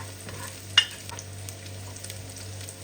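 Garlic and onion frying in a pan, a steady soft sizzle with one sharp utensil clack early on, close and continuous with no voices.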